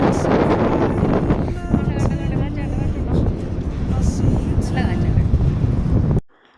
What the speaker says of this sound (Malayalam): നല്ല ക്ലൈമറ്റ് ആണ്, നല്ല കാറ്റുണ്ട്.